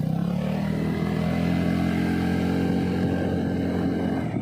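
Steady droning scooter engine at constant revs while riding over a rough road with speed breakers, a loud continuous hum with wind rumble and no talking.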